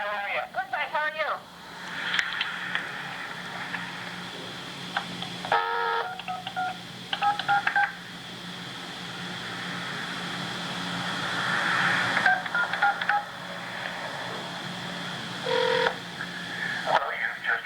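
Touch-tone keys are pressed on a phone, and bursts of DTMF beeps mark the number being dialed. Steady line hum runs under them, and a person speaks between the tones.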